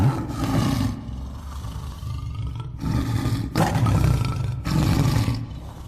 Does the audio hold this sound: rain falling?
no